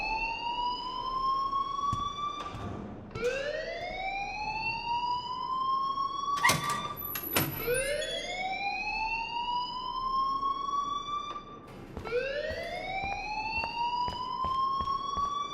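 A rising-and-falling electronic alarm wails repeatedly in the Life Is Strange video game, loud and continuous, the sweeping tone restarting several times with a few sharp clanks in between.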